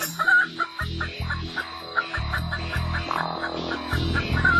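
Domestic chickens cluck in repeated short bursts, fairly close and alone, with a few higher calls mixed in.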